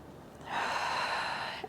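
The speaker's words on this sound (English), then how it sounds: "And again, big breath in." A single deep in-breath during a Pilates breathing exercise, a close, soft airy inhale lasting about a second and fading out, with no talk.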